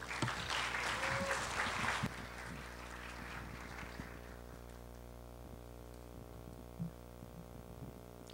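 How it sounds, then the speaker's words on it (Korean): An audience at a Korean conference session on cloud collaboration software claps for about two seconds to welcome a presenter, then the applause stops and a steady room hum remains. "여러분 큰 박수로 맞아 주시기 바랍니다."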